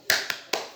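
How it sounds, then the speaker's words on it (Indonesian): Three sharp hand claps in an uneven rhythm, close and fairly loud, each with a short bright ring, from a group of women doing a 'tepuk semangat' spirit clap at a PKH financial management and business planning session. "Kita tepuk tangan semangat dulu ibu"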